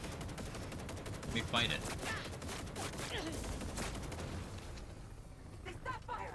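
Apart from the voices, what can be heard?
gunfire in a video game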